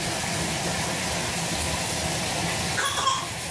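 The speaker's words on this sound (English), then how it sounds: "in my video, you can hear the water running" Tap water runs steadily into a bathtub, a continuous broadband rush that stays even throughout with no talking.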